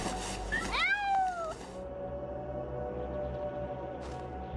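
A cat meows in the video game ShadowSide, a few rising and falling cries early on, fairly close and clear, then a long quiet hum of ambient game sound.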